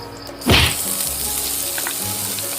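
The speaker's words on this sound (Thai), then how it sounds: "ก็มาถึงขั้นตอนการผัดพริกเกลือนะครับ ก็พริกที่โขกไว้" Pounded chili and salt hitting hot oil in a pan for stir-frying: a sudden loud sizzle that settles into a steady, close frying hiss.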